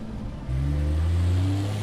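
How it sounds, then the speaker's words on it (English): A car engine starts and pulls away as an audio drama effect, with a steady mid-pitched drone that builds after a brief pause and holds strong, close and alone. "Then she got in and drove away without a word"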